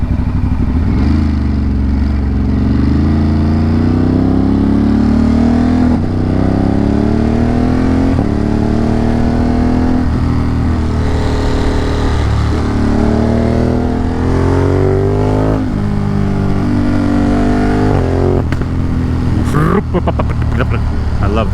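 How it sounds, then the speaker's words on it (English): Motorcycle engine revving in repeated rising and falling pulls over 20 seconds, loud and close, with pops in the exhaust, heard after a 150-mile country ride. "I love the little backfire thing."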